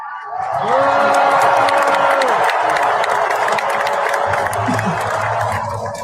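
A large crowd cheers and applauds loudly for several seconds, whoops and shouts rising over steady clapping, with a low hum entering near the end.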